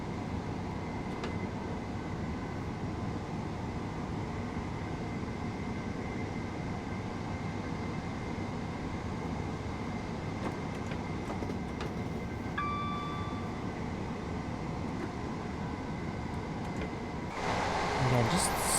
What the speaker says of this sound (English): Again, just the sound of the train.